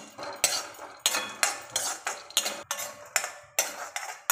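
Copra dry roasting in a hot pan as a utensil scrapes and tosses it in quick repeated strokes, sharp metallic scrapes in a steady rhythm, close and alone.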